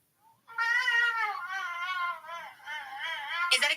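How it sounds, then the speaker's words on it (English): A snow leopard gives a long, drawn-out wavering call, a rising and falling moaning yowl rich in harmonics that lasts several seconds, close and clear with no talking over it. "It's a fucking snow leopard."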